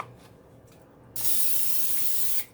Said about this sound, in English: I just spray it. It's a non-stick, but just to ensure, I spray it.